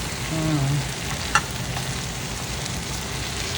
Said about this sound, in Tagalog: Gisadong ampalaya with salted duck egg.